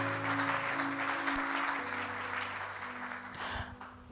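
A church congregation applauds and cheers the Lord with sustained, dense clapping and voices. A steady musical drone and organ-like tones run underneath, and the applause thins slightly toward the end.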